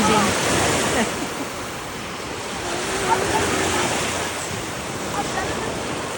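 Ocean surf rolling in at Hampton Beach on the New Hampshire seacoast, a continuous loud wash of breaking waves with wind buffeting the microphone throughout.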